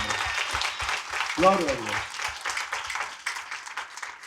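Church congregation applauding during a sermon, a broad wash of clapping carried under a preacher's voice as he speaks over it.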